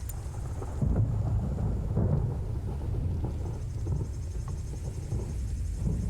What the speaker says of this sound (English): And that sounds very much like thunder.